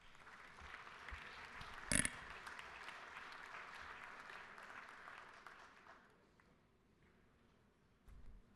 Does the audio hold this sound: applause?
yes